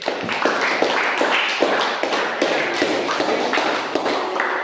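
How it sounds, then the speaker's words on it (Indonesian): A classroom of students claps for a presenting group, a dense, steady round of applause close by with uneven, overlapping claps from many hands. "Tepuk tangan untuk kelompok C."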